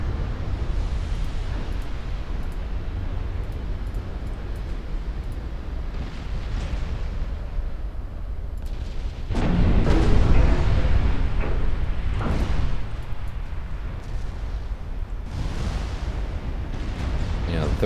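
Warship guns fire in a naval battle video game: 13-inch guns shooting high-explosive shells and 20-inch guns shooting armour-piercing shells. Deep booming blasts over a constant rumbling roar, with a heavier cluster of shots near the middle.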